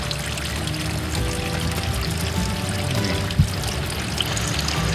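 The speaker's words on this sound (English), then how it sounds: "You can hear the water seeping through this." Water seeps and pours through a pipe at an active hot spring site near Thermopolis, a loud, steady rushing trickle heard close up and alone, with one brief knock.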